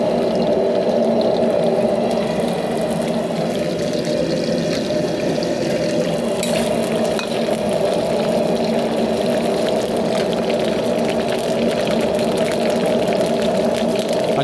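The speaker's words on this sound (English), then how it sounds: "So it's bubbling right now" Shrimp frying in hot oil for salted egg yolk shrimp, a loud, continuous bubbling and sizzling that holds steady from start to finish without talk.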